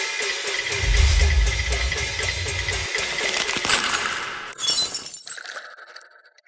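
Teacups clinking together in a toast: loud, close, bright ringing clinks with a shattering, glassy shimmer and a low rumble underneath, fading out at the end.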